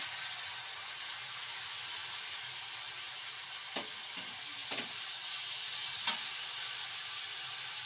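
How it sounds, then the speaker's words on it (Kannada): Chopped kashi greens hissing in a hot pan for a vegetable palya, a steady sizzle with a few sharp clinks and scrapes of stirring, close and without talk. "ಇವಾಗ ಕಟ್ ಮಾಡ್ಕೊಂಡಿರೋಂಥ ಸೊಪ್ಪನ್ನ ಹಾಕೊಳ್ಳಿ"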